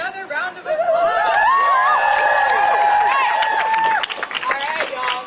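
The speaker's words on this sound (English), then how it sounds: "Let's get another round of applause." Rally crowd at a student walkout for abortion and transgender rights at UT Austin, with sustained cheering, whooping and shouted voices at close range, dense and loud throughout, with scattered clapping.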